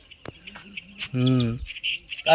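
A short, harsh crow caw rings out once amid scattered clicks and brief background noises.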